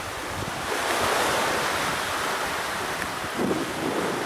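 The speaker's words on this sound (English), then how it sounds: "Bit windy today." Strong wind gusts roar steadily at a seaside resort beside the ocean and a pier, mixed with the broad wash of surf and microphone buffeting throughout.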